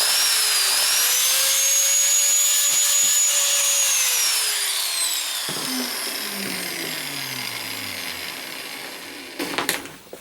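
A Porter Cable PC60TPAG angle grinder runs with a high, steady motor whine that rises and shifts pitch as its speed changes. It then spins down in a falling tone, ending with a few close clunks of handling.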